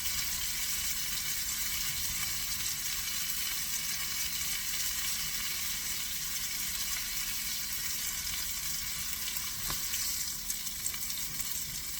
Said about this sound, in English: You see how I'm browning them?